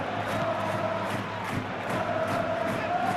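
A stadium crowd in the football video game Football Life 26 roars with continuous cheering and chanting, a dense, steady wall of voices at moderate loudness with rhythmic swells, no commentary over it.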